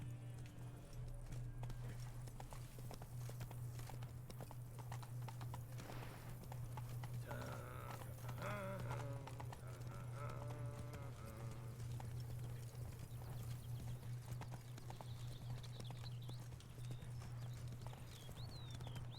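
Horse hooves trot in The Witcher video game, a steady, close clip-clop rhythm that runs through the whole stretch over a constant low drone, with a brief snort or whinny partway through.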